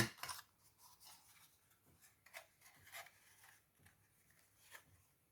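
Scissors make a series of small snips into a 1 cm paper strip for an advent calendar craft, faint and close, with quiet irregular cuts and rustling between them.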